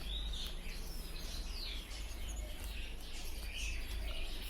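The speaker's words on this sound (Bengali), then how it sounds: "স্টার ফিঞ্চ দেখতে পাচ্ছেন বন্ধুরা" In a busy bird market, star finches and other small caged finches give faint, high chirps and tweets scattered over a loud, steady low rumble of crowd and traffic noise.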